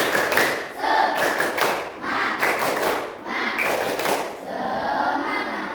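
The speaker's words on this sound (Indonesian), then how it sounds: "Oke, kita tepuk semangat dulu ya." Schoolchildren in a classroom perform a rhythmic spirit clap chant, clapping together in patterned bursts with short pauses while their voices chant along, loud and close.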